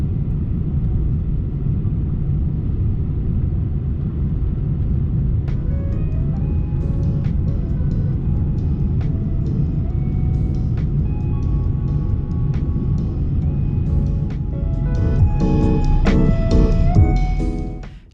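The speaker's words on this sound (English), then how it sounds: "Now please enjoy this unedited landing." Lufthansa Boeing 747 landing heard from inside the cabin, a steady loud low engine and airflow rumble that holds throughout, with scattered clicks and rattles and a brief surge near the end before it cuts off.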